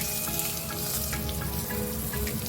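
Onions fry in a pan for a kadai paneer gravy with a steady, close crackling sizzle and occasional soft stirring sounds; no voices are heard.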